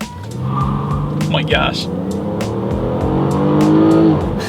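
A 2017 Chevrolet Impala with a V6 launches hard from a standstill with slight wheel spin, its engine note climbing steadily and loudly up close. A person reacts with a quick exclamation over the engine.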